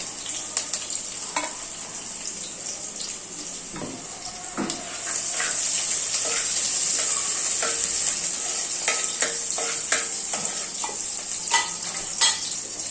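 Onion and bay leaves frying in a pan for a mutton curry, a steady bright hiss of hot oil with scattered spatula scrapes and small pops, close and even, no voices.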